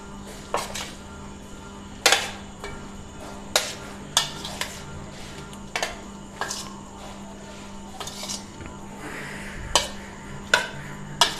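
Chicken being stirred with achar gosht masala in a metal pot, giving sharp spoon-on-pot clinks and scrapes at irregular intervals over a low steady hum, close and fairly loud, with no talking.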